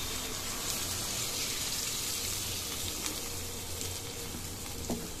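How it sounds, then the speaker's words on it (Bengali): Potatoes frying for alur dum sizzle steadily as water is poured into the hot pan, a continuous dense hiss and bubbling, close but fairly quiet with no talk. "আলুগুলো একটু কষানো হয়ে গিয়েছে, এবার আমরা দিয়ে দেব জল।"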